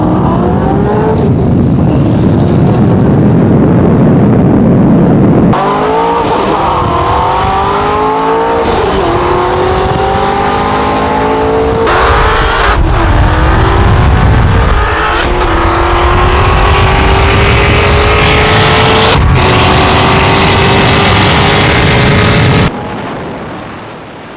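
A Corvette's engine revs hard and races, loud and close, with repeated rising and falling acceleration sweeps, sharp gear changes and possible tire squeal, sustained almost continuously before cutting off at the end.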